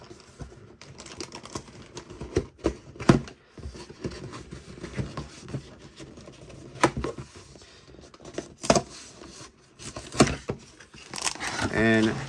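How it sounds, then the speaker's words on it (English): A cardboard box for the LEGO Marvel Infinity Gauntlet set 76191 being opened and torn up close, with irregular scraping, ripping and crackling bursts, then crinkling toward the end. "Don't rip the box."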